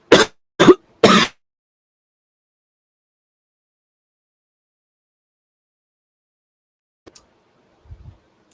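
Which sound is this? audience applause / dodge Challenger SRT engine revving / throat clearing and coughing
throat clearing and coughing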